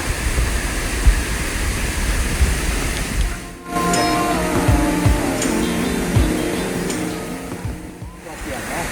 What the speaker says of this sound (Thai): ได้เสียงน้ำตกละ